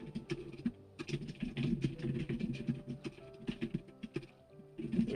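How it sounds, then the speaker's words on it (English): Loud mechanical computer keyboard typed on steadily in a streamer's room, a dense run of sharp clacking keystrokes throughout, close up and alone without talk. "You could probably hear me typing and clacking away too on my keyboard."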